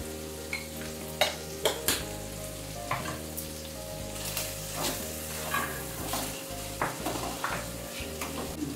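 Chopped tomato frying and sizzling in a pan for a low-oil potato curry, a steady close hiss broken by repeated clacks of a spatula or spoon scraping and stirring against the pan, with no voices.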